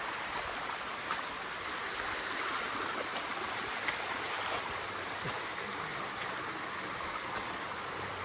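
A waterfall in misty Sahyadri hill country near Fopsandi village roars as a steady, broadband wash of rushing water, unbroken and fairly close, with no voices over it.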